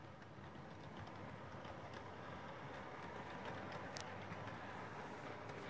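A model locomotive pulling four matching coaches runs around its track, giving a steady, even rolling rumble that stays at a constant moderate level throughout, with a faint brief tick near the end.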